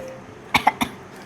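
A person coughing after eating the spicy Jolo chip: three quick, close coughs in rapid succession over a quiet background.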